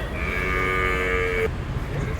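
A single long moo from a young bull calf at a busy cattle market, loud and close, holding steady for over a second before cutting off into crowd murmur.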